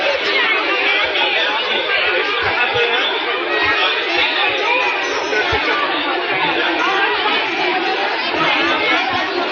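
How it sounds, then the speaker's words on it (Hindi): Dense crowd chatter from many women gathered for a Vat Savitri puja in Ambikapur, a steady loud babble of overlapping voices filling a cramped space without pause. "बहुत ही ज़्यादा भीड़ है गाइस"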